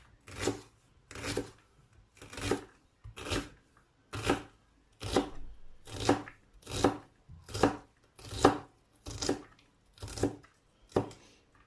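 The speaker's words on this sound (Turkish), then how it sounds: "soğanlarımızı küçük küçük çok ince arkadaşlar çok ince şöyle küçük küçük doğrayacağız" A knife finely chops onions in a steady rhythm of about a dozen evenly spaced crisp strokes on a board, close up and with no talking.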